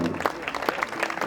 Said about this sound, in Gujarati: એમને એકવાર જોરદાર તાળીઓના ગગડાટથી વધાવી